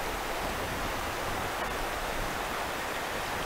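Water flows steadily at a beaver dam in the mountains, a constant broadband rush like a stream or small falls, moderately loud and unbroken, with no voices.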